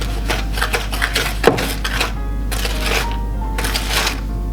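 Grey stuff mixture being whisked by hand in a bowl without an electric whisk, giving quick repeated scraping and clinking strokes that continue steadily at close range with no talk.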